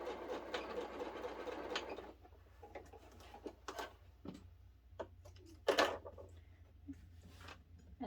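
A home sewing machine stitches a quilt block in a steady whirring burst lasting about two seconds, followed by scattered light clicks and taps from fabric handling in a quiet room.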